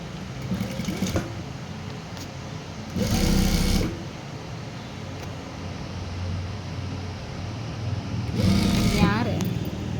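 A sewing machine stitches the front patti of a garment in short close bursts, whirring loudly around the three- and nine-second marks over a steady background hum, with a voice talking in between.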